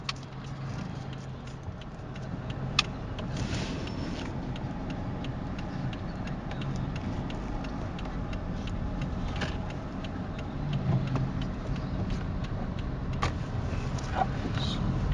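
Turn signal of a 2010 Toyota Allion ticking steadily inside the cabin during a U-turn, faint regular clicks over a low engine hum and road noise, without talk.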